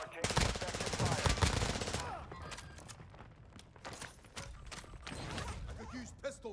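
Call of Duty DMZ firefight with rapid bursts of automatic gunfire, loud and close at first, then scattered sharper shots and cracks over the rest, with game radio voice talking in between.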